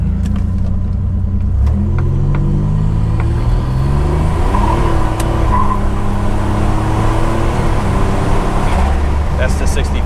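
A 1987 Buick Turbo T on a rolling acceleration run, its engine droning loud and steady with rising tones as it pulls through the gears, with a voice talking briefly over the noise.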